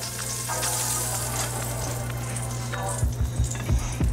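A rib eye steak hits a hot pan with butter, giving a continuous close sizzle and crackle that stays dense throughout, with a few low thumps and pops near the end and no talk.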